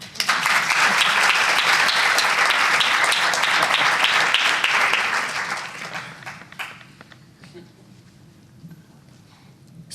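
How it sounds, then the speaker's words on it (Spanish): Loud sustained applause from an audience at a book presentation, dense clapping for about five seconds before tapering off into scattered claps and faint murmuring. "Otro aplauso."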